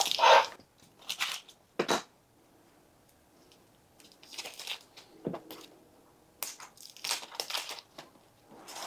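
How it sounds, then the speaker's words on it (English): A knife chops through onions on a cutting board in crisp, uneven bursts of crunchy cuts separated by short pauses, close and moderately loud with no voices. "I'm going to go ahead and dice all of these onions"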